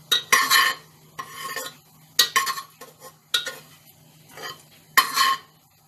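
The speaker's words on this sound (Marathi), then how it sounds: "तेल आता चांगलं गरम झाल्यावरती मी हे त्याच्यामध्ये जिरं घालून घेणार आहे. ते जिरं मी तेलामध्ये चांगलं परतवून घेणार आहे." Cumin seeds stirred and sautéed in hot oil for rice kurdai, heard as a few close, intermittent bursts of spatula scraping against a pan with quiet gaps between them and no talking.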